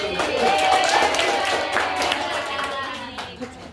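Classmates clapping for a fellow student in a classroom discussion, a brief spatter of hand claps mixed with overlapping voices and chatter.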